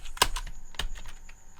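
Computer keyboard keys typed while writing JavaScript code, a few sharp clicks with a louder strike near the start and another shortly after, close and fairly quiet, no talking.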